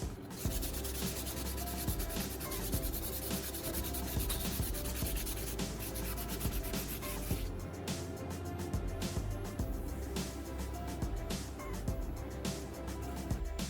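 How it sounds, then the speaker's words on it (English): Sandpaper smooths the cut edges of a plastic tube in a battery-charger build, giving a dense, continuous close-up rubbing and scraping that runs unbroken throughout, with faint ticking near the end. "I use a piece of sandpaper to smooth the cut edges of the plastic tube"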